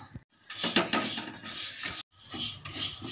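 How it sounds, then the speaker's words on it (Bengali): Moong dal being dry-fried in a pan, a utensil scraping and rubbing against the metal in repeated close strokes, with two brief pauses, no talking. "এবার আমি মুগের ডালটা ভালো করে লালচে করে ভেজে নেব।"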